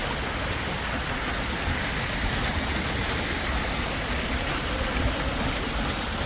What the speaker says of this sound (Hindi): नीचे से कितना खूबसूरत पानी